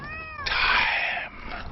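A single cat meow, clear and close, rising from a short tonal start into a drawn-out, strained cry that cuts off abruptly, with nothing else in the background.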